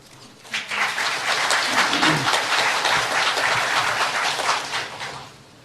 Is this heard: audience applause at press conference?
yes